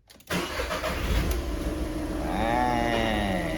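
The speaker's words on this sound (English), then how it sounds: "let's start this car to see if we change this battery in a successful way" A car engine cranks and catches after a battery replacement, settling into a steady idle with a slight rise in revs, close and continuous, with no talking.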